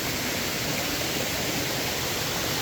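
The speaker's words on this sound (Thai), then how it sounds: "เป็นน้ำตกเลยนะครับ" A waterfall roars steadily and loudly from close by, a dense continuous rush of falling water on a steep, slippery forest trail, with no voices over it.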